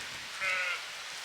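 A single sheep bleats briefly among shorn sheep in warm Shropshire farmland, a short mid-distance call standing out over a steady outdoor background hiss.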